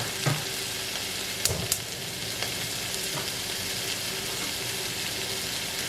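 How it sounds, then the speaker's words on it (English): Sausage and onions sizzle steadily in a pot, a continuous bright frying hiss with occasional light clinks and scrapes as a utensil stirs them. "I'm just going to stir in the first round of sausage with the onions."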